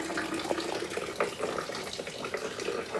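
Rainwater pours from a hole drilled through the roof lining of a boat's ceiling, a steady, close splashing stream that runs without a break and with no talk.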